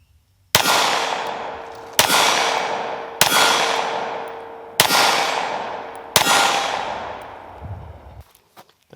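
Five sharp pistol shots from a Smith & Wesson M&P 5.7 at a shooting range, each loud crack followed by a long ringing decay, fired at uneven intervals of about one to one and a half seconds with no talk.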